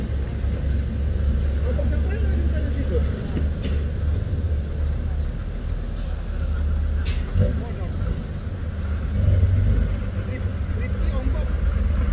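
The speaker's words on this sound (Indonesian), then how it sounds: "Yang dari atas 2 unit truk tangki ya." Two tanker trucks roll downhill on a steep road among other traffic, a heavy, continuous low engine rumble with passing vehicle noise and people talking over it.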